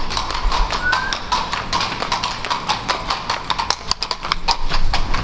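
Horses clip-clopping on a street in Vienna, a brisk run of close, sharp hoof taps that overlap in a busy, uneven rhythm.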